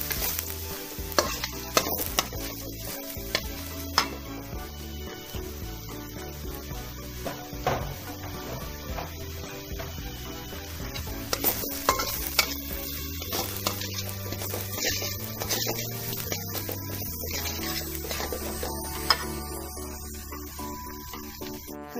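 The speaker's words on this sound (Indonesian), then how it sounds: "Tumis sampai baunya harum." Broccoli stir-fried in a pan, sizzling steadily throughout with frequent clinks and scrapes of a utensil against the pan, no voices.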